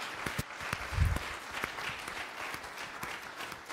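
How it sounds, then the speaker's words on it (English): A modest crowd applauds with a steady patter of clapping, fairly close and continuous for a few seconds. "If you give them a hand clap this morning."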